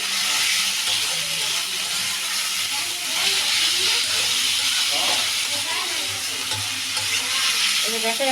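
Cauliflower, peas and spices frying in oil in a pan for soup and noodles: a continuous loud sizzle and hiss with stirring sounds, steady throughout.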